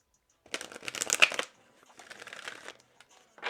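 A deck of tarot cards is shuffled in two bursts of rapid riffling and flicking, close and crisp, with a brief pause between them and a final quick snap.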